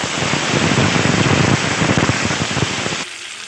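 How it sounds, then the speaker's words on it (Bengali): Cumin seeds and cumin paste dropped into hot oil, a loud, dense, close sizzle bursting immediately and crackling steadily for about three seconds before cutting out abruptly. "ওই তেলে দিয়ে দিচ্ছি জিরা ফোড়ন, এবার দিয়ে দিচ্ছি পেস্ট করে রাখা জিরা"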